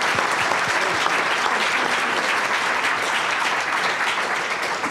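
The audience at the inaugural launch of the Lancet Commission on Global Surgery applauds. The clapping is dense and sustained, with a broad crowd sound that tapers slightly near the end.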